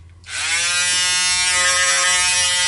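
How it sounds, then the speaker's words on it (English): An electric beard trimmer switches on and buzzes steadily at close range, a bright, even mechanical hum with no voices. "beard trimmer."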